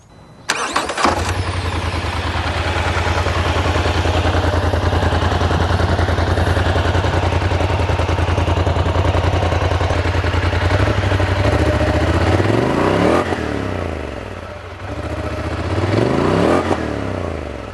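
A 2023 Polaris Scrambler 1000 S ATV cranks and fires at about one second, settles into a steady loud idle, then blips its throttle twice near the end in quick rising revs, close up with no talking.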